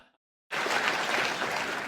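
Studio audience applause bursts in suddenly after a brief quiet moment, then holds as a dense, steady wash of clapping from many hands.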